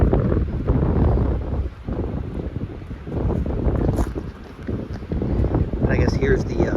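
Strong wind blows across an open Illinois field among a stand of giant trees, roaring steadily and buffeting the microphone in loud gusts, with a person talking over it.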